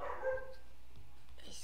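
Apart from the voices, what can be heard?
dog barking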